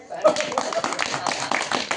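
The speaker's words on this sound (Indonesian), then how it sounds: "Tepuk tangan semuanya." A group gathered at a housing construction site in Klapanunggal, Bogor, breaks into dense, continuous applause of many hands clapping together, close and fairly loud, with voices mixed in.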